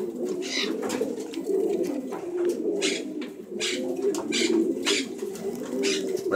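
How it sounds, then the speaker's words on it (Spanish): Pigeons cooing in repeated low throaty phrases, steady and fairly close, with faint bursts of other noise between the coos and no talk. "Oye, pero todas las palomas aquí son unas hijas de puta, David."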